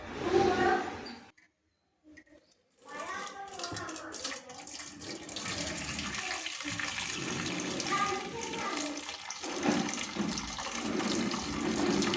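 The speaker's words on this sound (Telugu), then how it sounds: "మళ్ళీ వేడి వాటర్ మీదికి పోసుకుంటున్నాం" Hot water pours over rice in a pot, a steady rushing splash that runs for several seconds after a brief pause, close and full-bodied, with a voice heard at the start.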